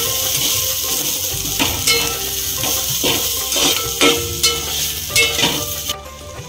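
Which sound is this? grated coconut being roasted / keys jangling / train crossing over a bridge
grated coconut being roasted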